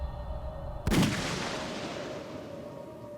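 A single sharp gunshot from the video game 428: Shibuya Scramble cracks out loudly and close, then fades into a long reverberant tail over a steady background hum.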